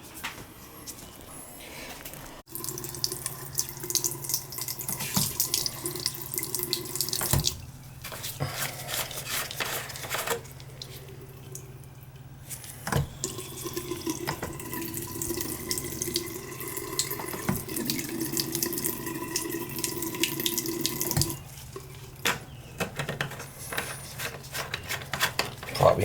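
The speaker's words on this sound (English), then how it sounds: "So we got water going to a good flow of water going to the faucet" Tap water runs steadily from a kitchen faucet with low pressure on the cold side, a continuous hiss and splash that stops and restarts a few times, with faint clinks of dishes near the sink.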